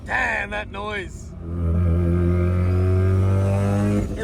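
Engine sound rising in pitch, then a modified Mazda RX-7's engine holds a steady, loud drone at high revs from inside the car.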